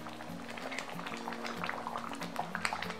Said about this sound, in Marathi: हे डाळ उकळा लागले